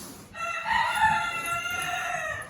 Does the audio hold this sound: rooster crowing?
yes